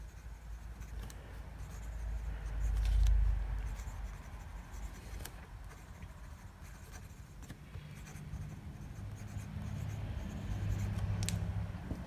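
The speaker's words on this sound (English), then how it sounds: "it writes nice and smooth and nice and wet" An Italix Parson's Essential fountain pen writing on paper, a faint, soft scratching of the nib with occasional light taps, fairly quiet and close.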